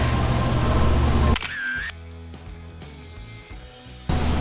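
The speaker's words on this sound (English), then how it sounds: "If I can get you to take a photo of us." A single-lens reflex camera takes a photo of a group with a sharp shutter click, followed by a few quieter mechanical clicks and handling noises after a stretch of loud background noise.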